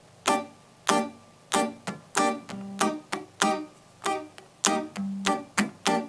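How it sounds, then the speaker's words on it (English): Choppy, percussive guitar upstrokes land in a regular offbeat rhythm, each chord short and bright with brief gaps between, played alone. "it's the sound of upstrokes on the guitar"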